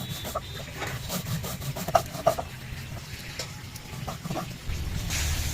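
Dry-roasted chili and cumin with raw mustard seeds being ground into a paste, a steady close rubbing and scraping rasp with occasional sharper knocks.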